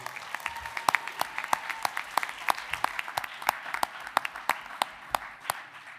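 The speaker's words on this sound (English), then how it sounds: "How about one more big round of applause for all of our honorees?" Audience applause at a Board of Education honors ceremony: a sustained wash of clapping from a room of people, with individual sharp claps standing out, steady throughout and without talk.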